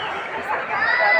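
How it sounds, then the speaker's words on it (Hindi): Dense crowd chatter fills the grounds of Bageshwar Dham temple, a steady babble of many overlapping voices at moderate loudness with no single speaker standing out. "आप देख सकते हैं कितना भीड़ है"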